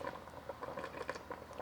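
Pot roast broth simmering on medium-high heat, a faint, irregular patter of small bubbles popping close by in a pot.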